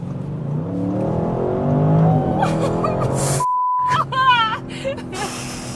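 Audi RS6 Performance estate accelerating hard on the Autobahn, engine note climbing in rising harmonic sweeps through the gears with a brief gap between shifts, heard close from inside the car with a person talking over it.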